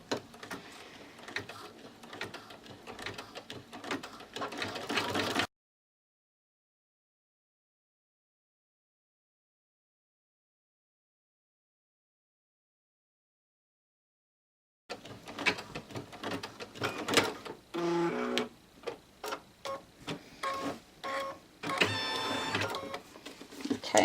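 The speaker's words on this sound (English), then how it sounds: "all it's going to do is now sew the end of your bag" An embroidery sewing machine stitching the end of an in-the-hoop zipper bag, a rapid mechanical ticking and whirring in the first five seconds, then silence, then stitching again, steady and close.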